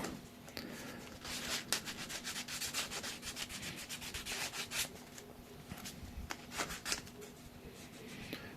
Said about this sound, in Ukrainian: Усі ребра, всі площини прошліфовуються на чисто